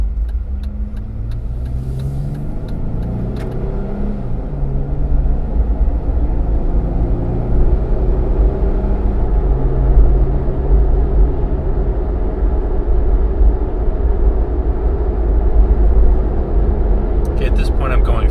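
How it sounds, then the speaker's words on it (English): Steady low road rumble and wind roar inside a soft-top Jeep Wrangler cabin cruising at 50 mph, a constant loud drone with engine hum, while someone talks over it throughout. "If you're driving a Jeep, it's going to be noisy inside, especially if you have a soft top."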